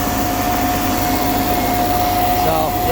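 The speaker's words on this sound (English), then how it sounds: "There's the vacuum right there." Vacuum fan on a corn planter sowing silage corn, running loud with a steady roaring hum and a constant high whine, unbroken throughout.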